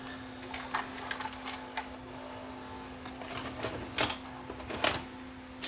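Samsung SV 5000 VCR ejecting a tape: a steady mechanical hum with light clicks and whirring, ending in two sharper clunks as the tape mechanism pushes out.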